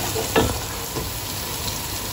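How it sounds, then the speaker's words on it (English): Chicken sizzling steadily in a pan over high heat, a constant close frying hiss broken by a couple of soft stirring scrapes. "I'm going to cook these for about 4 minutes now on a high heat, and keep on stirring it."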